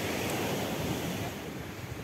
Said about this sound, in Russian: Море сказочное. Смотрите, тихая волна.